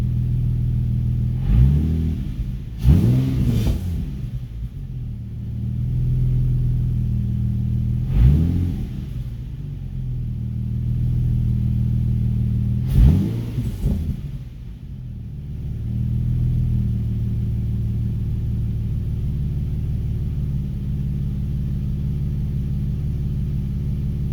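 Car engine being revved on the throttle: a steady low idle rumble with four sharp rising revs, two of them in quick succession, close and loud with no talk.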